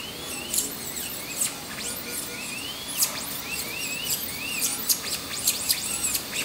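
Many birds chirp and tweet in quick, high, repeated calls, some near and some farther off, over a soft background hum at a zoo in Yerevan.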